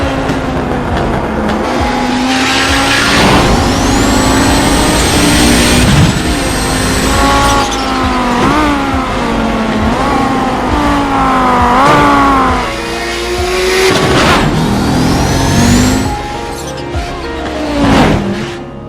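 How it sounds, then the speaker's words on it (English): Race car in the iRacing sim game accelerating hard, its engine note climbing and dropping through repeated gear changes, loud and continuous for the whole stretch. "you leave it off and boom, the car accelerates"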